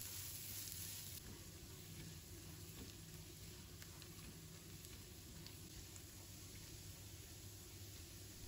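Minced garlic stir-frying in a wok gives a soft, even sizzle and crackle that runs steadily throughout, fairly faint and close, with no voices.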